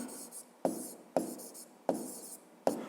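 A pen scratches steadily across paper during a fifth-grade maths exercise, with four sharp taps as the pen is set down between quick, close strokes.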